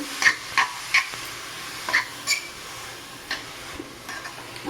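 Grated pumpkin stirred and fried in a pan for halwa, with a handful of light scraping clicks and soft taps spaced unevenly over a quiet, low sizzle, nearby and fairly faint.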